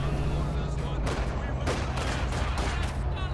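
Machine-gun fire from an MG42 in a Company of Heroes–style war strategy game, dense continuous gunfire bursts with scattered explosions over a steady battlefield rumble, heard close and loud.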